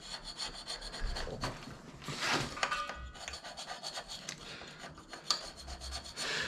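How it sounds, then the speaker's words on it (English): A hand scraper tipped with a brazed carbide blank rasps residue off the taper attachment of an Axelson lathe under restoration, making close, steady scraping strokes that repeat throughout with no talking. "So I'll just keep scraping that stuff off."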